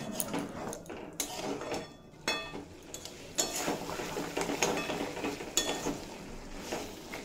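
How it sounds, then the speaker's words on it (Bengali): Steamed mutton stirred into spiced oil in a pan, with a steady sizzle broken by repeated scraping and clinking strokes of a spoon against the metal, close and fairly quiet with no talk. "খাসির মাংসটা এড করে দেব, দিয়ে খুব ভালোভাবে মশলার সাথে কষিয়ে নেব"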